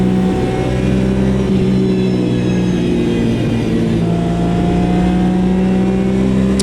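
A race car engine on a cool-down lap of the Daytona Road Course in the Automobilista 2 racing simulator: a loud, steady mid-pitched engine drone with a slight rise and fall in revs, with no talk.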